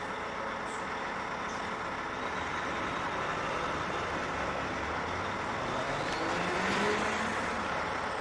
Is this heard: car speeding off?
yes